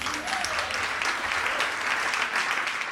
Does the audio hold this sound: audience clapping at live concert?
yes